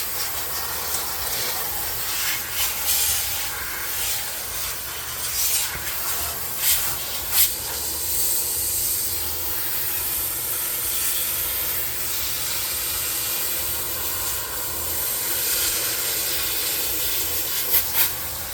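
Steady hissing water spray cleaning the coils of a Dometic ducted rooftop air conditioner on a diesel pusher RV, runs continuously, with a broad rushing texture and occasional brief bursts of louder splatter, no voices.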